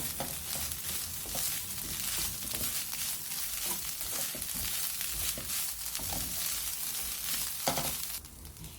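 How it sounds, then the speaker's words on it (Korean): Tofu fried rice seasoned with soy sauce and sesame oil sizzles loudly in a pan, with continuous frying crackle and occasional stirring scrapes, close and steady until it eases near the end. "참기름을 넣어서 한 번 더 볶아주세요"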